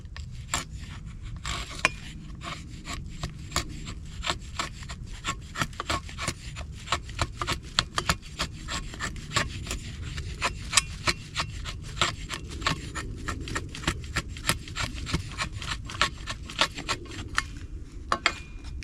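A Cold Steel Trail Hawk tomahawk with a convex grind shaves curls off wood in the woods, giving a steady run of close, rhythmic scraping strokes, each a short dry rasp, continuing alone without talk.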